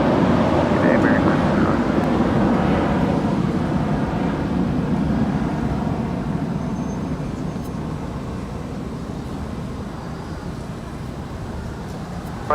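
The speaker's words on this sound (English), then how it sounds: "And this is American 1331 off to Dallas Fort Worth, an A321." An American Airlines Airbus A321 jet departing LAX for Dallas Fort Worth, a broad steady engine roar close by that slowly fades over about twelve seconds, with faint radio talk in the background.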